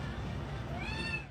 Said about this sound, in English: Because my brother is fostering a cat.